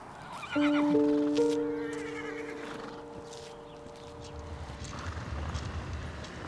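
A horse gives one loud, close neigh near the start, the whinny fading over a couple of seconds, followed by outdoor ambience and faint shuffling or hoof sounds with no talk.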